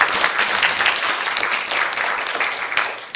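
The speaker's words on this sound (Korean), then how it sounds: "유부용 대표님 여러분 박수로 맞아주십시오" A seminar audience claps to welcome a speaker at a colloquium, a full, busy round of hand-clapping that stays strong throughout and begins to thin slightly near the end, with no talking over it.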